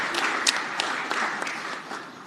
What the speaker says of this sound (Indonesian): kita berikan tepuk tangan yang meriah bagi Ibu Ketua Umum.